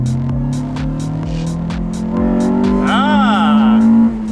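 A Honda EK Civic hatchback engine revs hard and climbs sharply in pitch as VTEC engages, loud and close from inside the car, with a brief excited exclamation from a person near the end.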